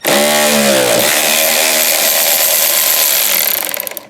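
A loud power tool works a 10mm bolt loose during a motorized retractable license plate install on a vehicle, whining down in pitch at the start, then holding a harsh steady buzz before cutting off at the end.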